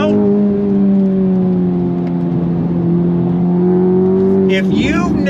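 The engine of an Acura Integra Type S pulls hard in third gear, a steady loud rising drone heard from the cabin that builds over several seconds before easing off at the end.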